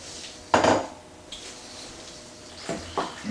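Pasta, cheese and bacon being mixed in a pan: a few sharp metallic clanks and scrapes of a utensil against the pan, separated by quiet stretches, close and fairly loud.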